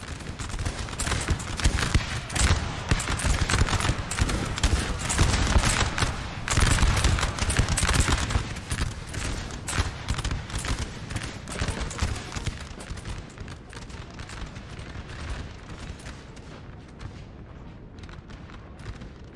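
Musket volleys crackle in a dense, continuous fusillade during a Napoleon Total War 4v4 battle, with heavy booms mixed in. The gunfire is loud early on, then thins and fades toward the end.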